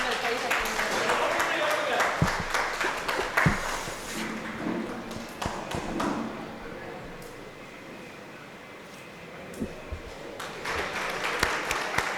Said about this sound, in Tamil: உங்கள் கைத்தட்டுடன்.